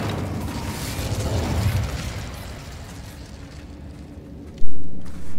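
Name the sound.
Incendio fire spell igniting, Hogwarts Legacy video game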